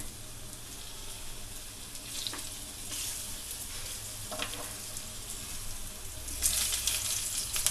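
Millet vegetable cutlets sizzling in a pan and being flipped, a soft steady fry with a few scrapes and taps from the spatula, growing louder toward the end, no voices.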